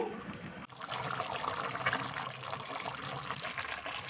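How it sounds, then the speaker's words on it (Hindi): A cup of milk is poured into jaggery rice cooking in a pan, a soft, steady liquid trickle and pour heard faintly and close for a few seconds. "1 कप दूध डालेंगे इसमें।"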